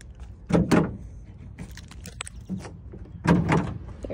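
Powered liftgate on a 2019 Chevrolet Silverado LTZ pickup, heard as two short, close mechanical thunks with a brief whirring motor, separated by a quieter stretch of small clicks.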